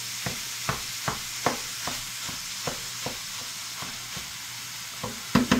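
Meat sizzles in a hot pan with vegetable oil while a utensil scrapes and stirs at a steady, regular rhythm, a louder clatter arriving at the end.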